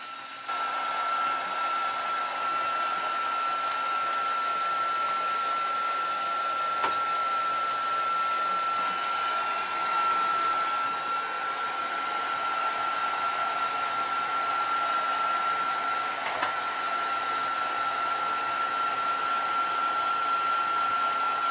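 A hair dryer runs continuously at a loud, steady whir with a high whine, used to dry Copic marker ink on a coloring project, with no talking over it.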